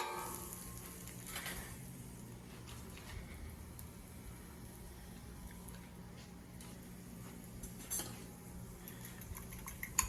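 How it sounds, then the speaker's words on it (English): An egg mixture poured into a pan of softened, browning sautéed vegetables gives a quiet sizzle with scattered clinks of utensils against the pan, no talking. "Now I'm going to go ahead and add my egg mixture."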